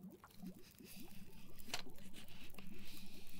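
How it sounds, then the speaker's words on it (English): Cleaning an item in The Long Dark, a fast, rhythmic scrubbing and rubbing patter that grows steadily louder and more even, close up, with a faint sharp tick near the middle and no talking. "God, it's noisy cleaning, isn't it?"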